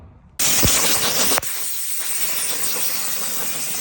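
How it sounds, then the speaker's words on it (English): Satin black spray paint hissing from an aerosol can onto a truck interior part, a loud steady spray that starts abruptly, with a brief break in the middle before continuing. "Satin black paint on there."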